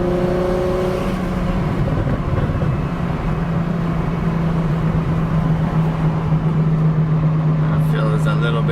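BMW 335i N54 single turbo with Bimmerlife coils pulling through third gear, a steady engine drone climbing gradually in pitch inside the cabin while a driver speaks over it.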